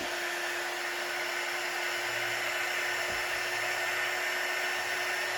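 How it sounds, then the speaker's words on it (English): A small craft heat gun blows air over metallic paint on a piece of furniture, a steady, even whirring hiss with a faint high tone running unbroken throughout, close and alone. "I'm using my little craft heat gun that I got from Capriol."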